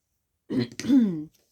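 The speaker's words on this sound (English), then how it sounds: "clear my throat a little bit" A single close throat clearing, a brief rough rasp followed by a lower gravelly rumble, alone against silence.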